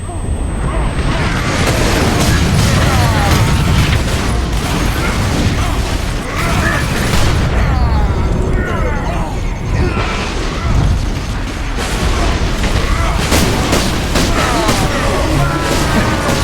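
Laser cannon shots and explosions roar through a Warhammer 40k video game battle, a loud, dense barrage of booms, bursts and mechanical clatter that continues without a break for over sixteen seconds.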